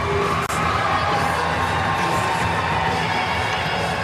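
Crowd of San Jose Barracuda hockey fans cheering in an arena, a loud, continuous roar of many voices with no clear pauses, sustained steadily throughout.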